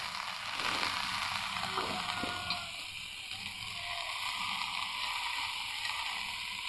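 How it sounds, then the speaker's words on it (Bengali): Brinjal pieces frying in hot oil in a pan, a steady bright sizzle that fills the whole stretch at close range, with a few faint clinks of a utensil. "বেগুনটা আগে তেলের মধ্যে ভালো করে ভেজে নেব।"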